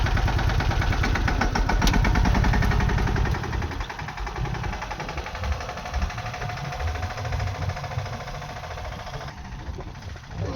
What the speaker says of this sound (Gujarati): તો હવે ટ્રેક્ટર હાકે છે